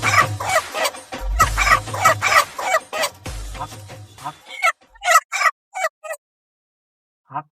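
Red chickens cluck and squawk in loud, close bursts over a low hum, with the calls thinning to a few short, isolated clucks before falling silent.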